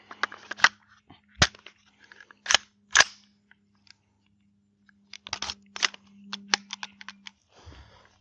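Sharp, loud gunshots of 300 AAC Blackout Federal ammunition fired in a penetration test, spaced single cracks in two bursts with short gaps, each standing alone against near silence.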